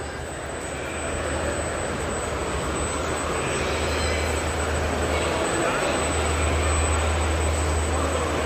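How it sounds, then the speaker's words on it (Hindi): Busy indoor ambience at Banaras railway station, a steady loud wash of crowd murmur, engine rumble and hall echo with a low droning hum running throughout. "तो देखिए ये है बनारस रेलवे स्टेशन।"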